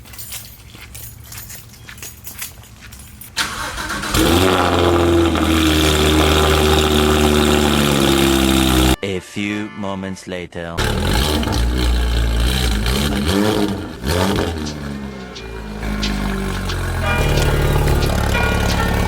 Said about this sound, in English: I had no way of showing you guys a cold start because the engine was already warm